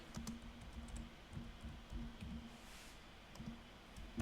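Typing on a computer keyboard, a quiet steady patter of key clicks in short irregular bursts, close by and without talk.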